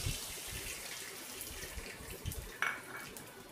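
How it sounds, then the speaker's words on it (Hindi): Milk poured into desi ghee in a kadhai while making paan modak, a steady soft liquid splash with a brief brighter splatter near the end, alone with no talk. "और अब इसके बाद ये आधा बॉल दूध है ये डालेंगे।"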